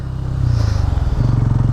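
A motorcycle rides across beach sand at Nellore Beach, its engine throbbing in a steady, rough pulse that lifts in pitch partway through, close and fairly loud with no talking.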